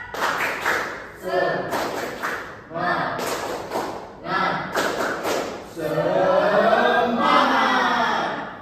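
Primary-school pupils in a sixth-grade classroom beat out a patterned cheer clap in several short rhythmic rounds. Young voices shout along in unison, with a longer sung call at the end.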